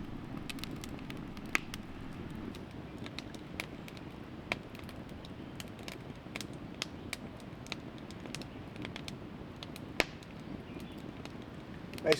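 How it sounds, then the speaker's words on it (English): Steady low crackle of a campfire with scattered sharp pops and snaps, fairly quiet and continuous, no voices. "Nice to just sit around and relax and enjoy the campfire."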